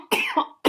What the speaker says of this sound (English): Let me do a showbiz cough a minute